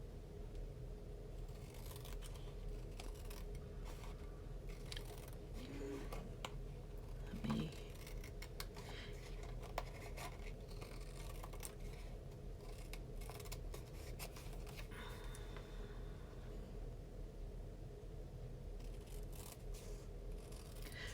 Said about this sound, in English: you could just get your snips and just trim right along the edge of your piece of cardstock